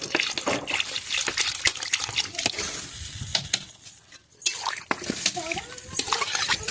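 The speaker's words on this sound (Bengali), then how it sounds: "এবার আমি এর মধ্যে পরিমাণ মতো জল দিয়ে দেবো" Water gushes and splashes into a cooking pot, a continuous, close liquid rush with some clinks and stirring noises.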